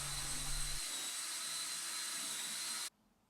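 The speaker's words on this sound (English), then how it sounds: "I get my brush in the drill to give it a buff off" A drill spinning a brush to buff wax on a wooden treasure chest, a steady loud whirring hum that runs for about three seconds, then cuts off abruptly.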